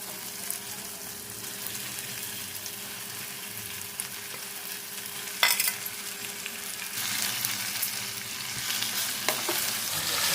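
Chicken pieces fry and sizzle in a pan with gongura leaves and softened tomato, a steady close hiss of frying with occasional stirring scrapes, rising slightly in the later seconds.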